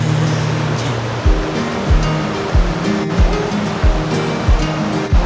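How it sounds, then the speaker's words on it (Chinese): A small waterfall on a forest trail in Sanxia, New Taipei, gives a steady rush of falling water with deep, regular surging thumps every second or so, close and continuous. No voices. "这后面看起来像一个小小的尼加拉瀑布"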